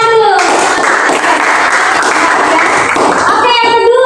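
A class of students claps hands together during a Christian religious education lesson, a steady burst of applause lasting a few seconds between stretches of a speaking voice at the start and end.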